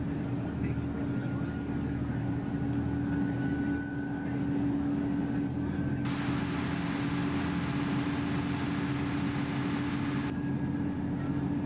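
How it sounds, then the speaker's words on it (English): Cabin fan of a Volvo B7TL ALX400 bus in OMSI 2 drones as a constant whirring hum beneath the idling engine, with a brief louder hiss partway through. "Can definitely hear the underlying fan."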